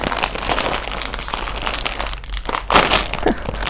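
A plastic bag holding a toy crinkles and rustles close up in steady bursts as it is opened and handled.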